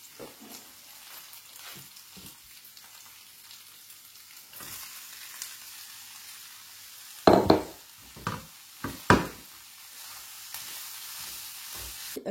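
Onion and grated zucchini cook in a pan with a soft, steady sizzle. Midway, a cluster of sharp utensil knocks and scrapes rises briefly above the sizzle, then it settles back to a quiet hiss.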